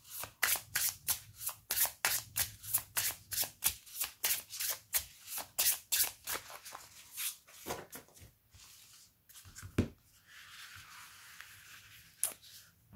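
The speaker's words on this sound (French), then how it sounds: "j'aime beaucoup le bruit quand on mélange les cartes" A deck of cards being shuffled for a card reading, with a rapid run of crisp riffling bursts over about eight seconds, then a softer pause and a few scattered taps and flicks, close and alone.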